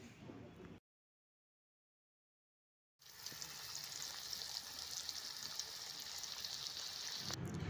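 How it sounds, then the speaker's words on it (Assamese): Chopped potatoes sizzle and crackle steadily in hot salted oil in a wok after a brief silent gap, with a continuous hiss that stays close and fairly loud. "এতিয়া পিচ পিচকৈ কাটি ৰখা এই আলুখিনি ইয়াতে দি দিম।"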